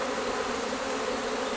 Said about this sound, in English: There's so many bees in the air right now.